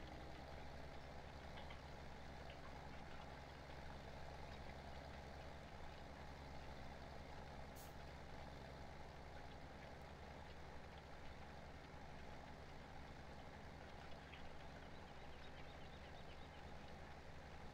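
An old tractor idles in Farming Simulator 17, a steady low engine drone with a constant mechanical hum that holds evenly throughout, with no talking.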